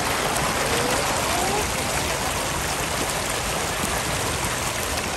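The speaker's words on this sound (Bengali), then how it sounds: "পানির শব্দ" Water runs along an artificial stream at a cultural village in Doha, a steady, broadband rushing that is close and even throughout, with no talk over it.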